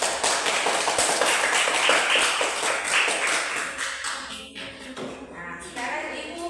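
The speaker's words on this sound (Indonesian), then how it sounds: "Tepuk tangan dulu untuk kelompok 1," Applause from a class of children for the first group, a dense run of quick hand claps filling the room at steady loudness, thinning slightly near the end.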